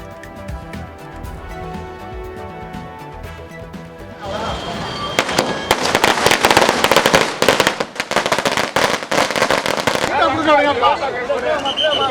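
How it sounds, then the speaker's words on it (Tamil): Loud strings of firecrackers crackle and pop in rapid bursts at a celebration in Tamil Nadu, after a few seconds of quieter background, with a crowd's noise underneath. "இனிப்பு வழங்கி பட்டாசு வெடித்து கொண்டாட்டம்."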